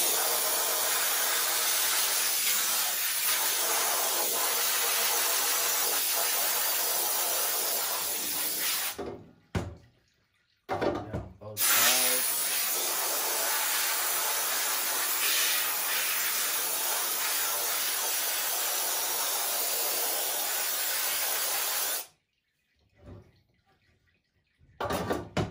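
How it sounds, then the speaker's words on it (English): A loud, steady hiss of an air hose spraying water off a screen printing screen runs in long bursts, cutting off abruptly twice into near silence before starting again. "now I got a handy dandy air hose system, so now I can just spray the water out"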